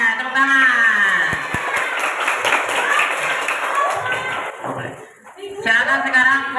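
Classroom of students clapping hands together in a fairly loud, busy burst that fades out, with voices mixed in and a teacher's voice continuing afterward.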